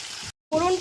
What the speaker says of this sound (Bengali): গ্যাসের ফ্লেমটা একদম লোতে রেখে ফোড়নটা হালকা করে ভেজে নেব